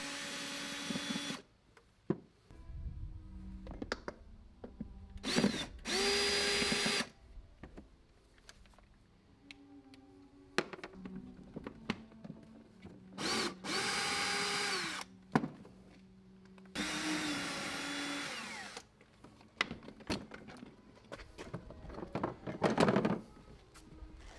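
A power tool, likely a drill or impact driver, spins the four 10 mm nuts holding the seat of a Honda Forza 300 scooter, in several loud, close bursts of a few seconds each with quiet gaps between.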